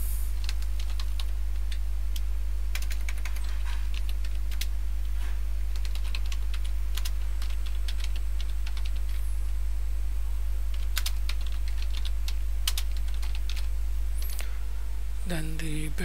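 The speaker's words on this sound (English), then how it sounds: "Then you can type some description." Rapid clicking of keys on a computer keyboard taps out steady bursts of typing over a constant low electrical hum, with a short spoken phrase near the end.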